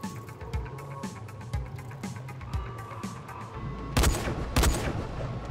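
Single shots from a police gun in Dying Light: faint scattered pops under background noise, then two louder sharp reports close together near the end.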